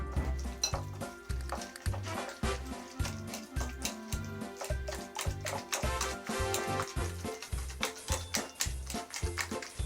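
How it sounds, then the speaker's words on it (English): Pumpkin pie hummus ingredients get stirred in a bowl, with a utensil clinking and scraping rhythmically against the bowl in quick, steady repeated strokes, close and clear. "Now we can mix up the initial ingredients."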